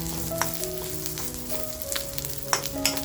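White sesame seeds added to a pan after frying onions, crackling steadily with a few sharp pops and light stirring against a steady background hum.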